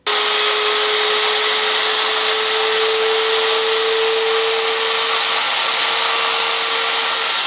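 A power tool sands and cleans the face of a Nissan Pathfinder front wheel hub, making a continuous, loud, abrasive whir with a steady tone throughout, close by and without talk.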